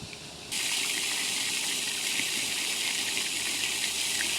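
Steady rushing water flows continuously at a pond at moderate distance, a constant broadband wash that swells up after a quieter first moment.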